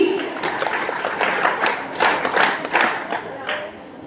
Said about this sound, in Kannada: ಎಲ್ಲರೂ ದಯಮಾಡಿ ಜೋರಾದ ಚಪ್ಪಾಳೆಯ ಮೂಲಕ ಸ್ವಾಗತಿಸಬೇಕಾಗಿ ವಿನಂ�ಿ